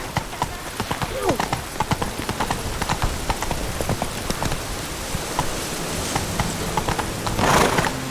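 Horse hooves clip-clopping in the video game The Witcher 3, a steady, close run of hoofbeats over a constant rain-like hiss, with a louder rustling burst near the end.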